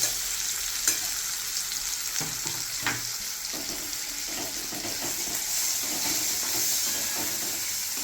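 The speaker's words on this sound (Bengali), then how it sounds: "মশলাটা একটু ছাঁকলানো হতে থাক।" Spice paste of ginger, chilli, onion and garlic sautéing in a pan, giving a steady, close sizzle broken by a few scraping stir strokes, with no talk.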